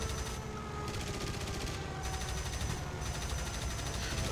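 Constant, fast rattling fire in the video game War Thunder, steady and loud throughout with no breaks and a droning engine-like hum underneath.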